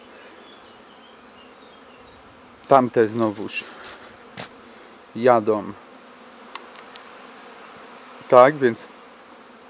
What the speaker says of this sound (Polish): Te pszczoły naprawdę, patrzcie, tutaj znowu. Akcja na całego.